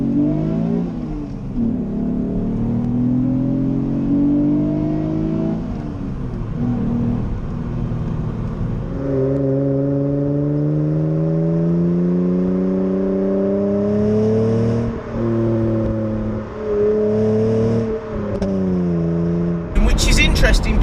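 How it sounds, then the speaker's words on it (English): A Mitsubishi FTO engine revs hard in third gear on a B road, its pitch climbing in repeated rising sweeps between shifts, loud and close from inside the car. "you really, really have to rev this thing to actually get it going."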